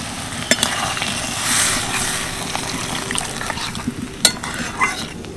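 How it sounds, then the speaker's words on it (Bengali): Boiled chana dal goes into a pan together with its cooking water and is stirred, giving a wet sizzle with scraping spoon clicks and a couple of sharp knocks against the pan, and no one speaking. "এবার আমি দিয়ে দেবো সিদ্ধ করে রাখা ছোলার ডাল, আর এই জল সমেত কিন্তু আমি দিয়ে দেবো। ভালো করে মিশিয়ে নেব।"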